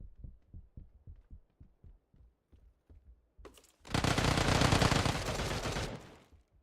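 Mini 14 rifle fire in PUBG, a steady run of sharp single shots with a few-per-second rhythm, followed by a loud, dense burst of noise that swells and then fades.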